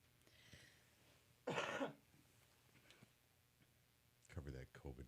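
A single throat-clearing cough from a radio morning-show host, loud and brief in the middle, with quieter studio talk before and after it.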